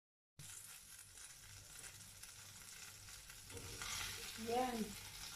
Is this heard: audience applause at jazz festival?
no